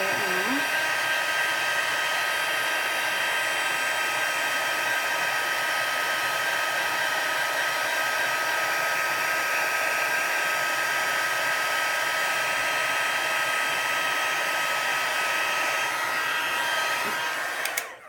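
A heat tool blows hot air for heat embossing on a card, a loud, steady, close whooshing whine that holds without a break for the whole stretch and cuts off sharply at the end, with no talking.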